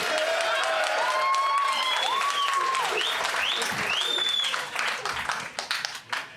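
A comedy show audience breaks into applause, a dense wash of clapping with whoops and cheering voices rising over it, then the sound thins into scattered claps near the end.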